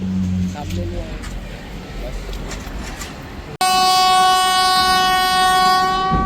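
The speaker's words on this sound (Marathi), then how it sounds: "ट्रेन बघा ट्रेन" A train rumbles past close by, then a loud sustained horn blares over the rolling clatter; voices are faintly audible early on.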